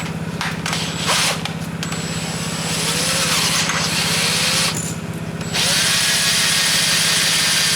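A power drill taps threads in soft metal at close range during carburetor work on a Yamaha Banshee, with a droning motor hum and grinding, briefly easing off and then driving on louder.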